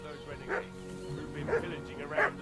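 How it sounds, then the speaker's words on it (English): In Kingdom Come: Deliverance II, a dog in a medieval village makes a few short barks or yips at a distance, spaced about a second apart, faint under a low ambient bed and some quiet voices. "What's that dog making such a fuss about?"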